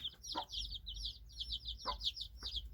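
Village hens clucking close by in a farmyard, a string of soft, rapid clucks and chirpy calls repeating over a low background hum, with a few short sharper notes mixed in.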